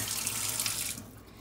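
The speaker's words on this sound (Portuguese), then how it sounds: "Colocar água aqui pra fazer um leitinho." Tap water runs hard and steady into a container in a home kitchen while milk is being prepared, then cuts off after about a second, leaving quiet room tone. No one speaks.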